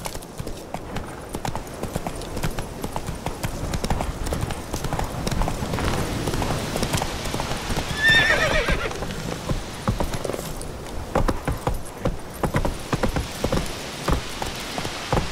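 Roach, the horse in the game The Witcher 3, gallops with a steady, drumming clip-clop of hooves and lets out a whinny midway, while rain patters throughout.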